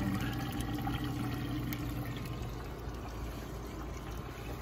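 Water flowing through an aquarium sump pipe, a steady close gurgling rush that stays constant throughout with no talk.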